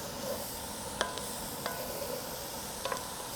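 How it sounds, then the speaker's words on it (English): Vegetables including onions cook in a skillet over medium to medium-low heat, a soft steady sizzle running throughout with a few sharp utensil scrapes and clicks from stirring. "Give them a stir and we'll let all our veggies start to soften up."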